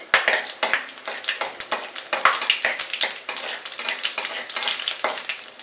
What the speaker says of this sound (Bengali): তারপরে দেব জিরে, গোটা জিরে 1/2 টিস্পুন, আর 3-4টে শুকনো লঙ্কা দিয়ে দিলাম। ফোড়নটাকে ফ্রাই হতে দেব 15 থেকে 20 সেকেন্ড।